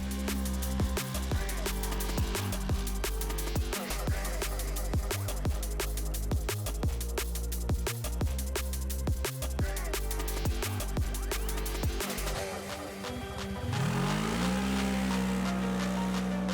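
A new Segway Villain 4x4 side-by-side buggy drives on asphalt, its engine loud and steady with rapid rhythmic pulsing, then dropping briefly before revving back up to a sustained high pitch.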